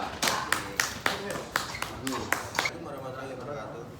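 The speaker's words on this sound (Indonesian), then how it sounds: "berikan aplaus untuk kelompok 2" An audience claps for a student group presenting in class, a burst of scattered, fairly sharp hand claps lasting a few seconds before fading out into quiet room noise.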